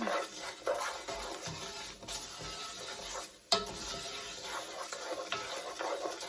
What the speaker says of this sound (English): And I'm going to keep stirring